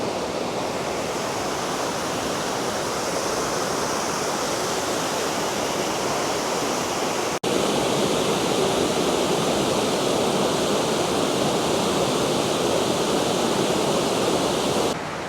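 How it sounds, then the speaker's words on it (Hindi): A secret waterfall in Kashmir roars as steady, dense broadband rushing water, loud and continuous throughout with no voices over it, the tone shifting slightly partway through. "इस खूबसूरत वाटरफॉल को अलविदा करने का वक्त आ चुका है"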